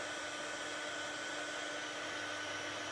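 A heat tool blows steadily while warming embossing powder, a constant airy whirring hum like a small hair dryer, close and unbroken, with no voices.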